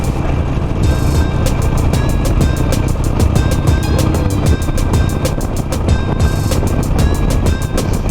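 Harley-Davidson Nightster motorcycle ridden at speed, a steady loud engine drone mixed with heavy wind buffeting and rhythmic ticking, continuous and close with no talking.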